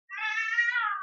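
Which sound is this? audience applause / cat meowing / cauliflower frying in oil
cat meowing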